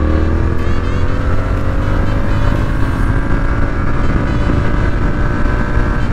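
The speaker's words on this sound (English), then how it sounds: "These English parallel twins sound pretty meaty." Triumph Speed Twin 1200 English parallel-twin motorcycle engine under way, a steady, meaty drone with harmonic tones holding throughout, close and loud with wind noise and no talk.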